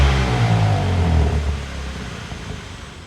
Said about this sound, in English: And you can hear that bass, that deep, throaty bass from the exhaust.